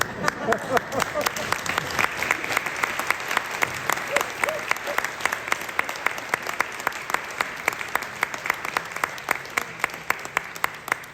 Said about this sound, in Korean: 이영훈 교수님께 다시 한번 뜨거운 박수 부탁드립니다